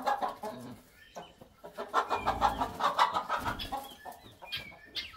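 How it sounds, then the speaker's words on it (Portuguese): Chickens on a Brazilian farm cluck in a busy, overlapping chorus of short, close calls that build in the middle, with no talking over them. "Vai, galinha."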